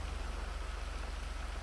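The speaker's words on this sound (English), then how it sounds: "maybe just this rain might clear up a little bit" Rain falls steadily during a red-flag stop in a stock-car racing game on the Andreas Roval. A dense, even hiss sits over a low, pulsing idle rumble, with no other sounds.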